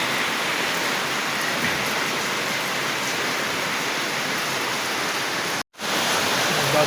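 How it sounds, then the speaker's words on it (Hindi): Heavy rain pouring down in Lahore, a loud, dense and constant hiss of drops close by that cuts out briefly near the end before resuming. "बारिश बहुत ज़्यादा हो रही है"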